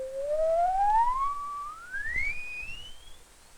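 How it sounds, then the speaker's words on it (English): Oscillator-generated pure tone in a 1961 educational film on sound waves, a single clean whistle gliding steadily upward from low to high pitch over about three seconds, alone. "And we can have a range of higher tones"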